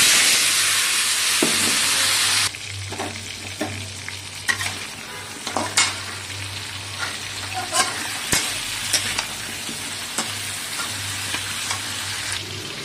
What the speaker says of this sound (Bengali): তেল গরম হয়ে গেছে, এখানে আমি আলুগুলো দিয়ে দিচ্ছি।